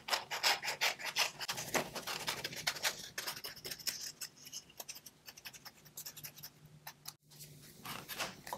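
Scissors cutting around upcycled paper craft material for a Christmas ornament or fridge magnet, a quiet, close run of rasping snips and rubbing scrapes in an uneven rhythm.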